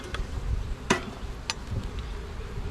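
Honey bees buzz around a beehive at a Georgia apiary yard, a faint ongoing hum with a few sharper knocks and taps from hive handling in the foreground.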